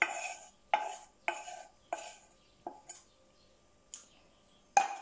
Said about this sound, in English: Make sure you mix it all well together so you've not got any big lumps of biscuit together or any bits that are just marshmallows.